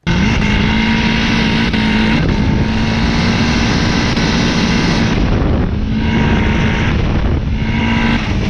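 A loud turbocharged Mazda Miata engine with an external wastegate drones steadily at high revs, with a strong buzzing tone that dips briefly before climbing back.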